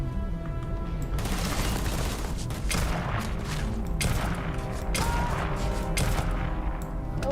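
Rapid gunfire from the game Starfield, a dense barrage of repeated shots and booms over a steady rumbling game soundtrack, loud and continuous with no talking.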